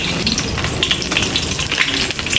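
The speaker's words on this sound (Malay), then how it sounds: "Kita nak tumis first kali ni serai. Alright, kita akan tumis dalam minyak." Steady crackling sizzle of lemongrass frying in hot oil, dense and continuous with bright spitting pops throughout.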